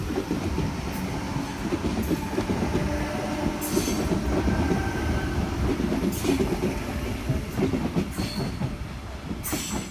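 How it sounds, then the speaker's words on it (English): A Sydney Trains Tangara train rumbles and clatters steadily as it approaches the platform at Mortdale station, wheels rattling on the track with occasional metallic squeals as it rolls in. "We have a Tangara approaching platform 2, Cronulla service."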